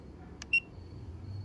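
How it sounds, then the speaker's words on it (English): A single short, high electronic beep from a Garmin Echomap UHD 73SV fish finder powering up, clear against a quiet background with a faint click just before it. "Got the beep."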